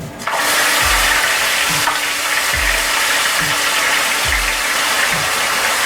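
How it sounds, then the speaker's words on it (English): Onion paste frying in hot oil with browned cumin seeds gives a loud, steady sizzle that holds throughout, with faint low thumps recurring at regular intervals underneath. "cook the onion paste in the oil for about a minute"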